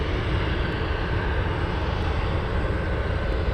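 A Beechcraft 1900 turboprop crossing the runway at Anchorage airport, a steady, loud broadband engine roar that holds constant throughout, heard from a spotting position without speech.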